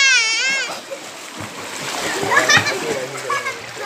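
Children splash and swim through knee-deep village flood water, with bursts of sloshing and splattering water close by while kids shout and chatter excitedly over it.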